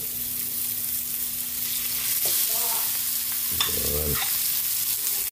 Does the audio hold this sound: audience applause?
no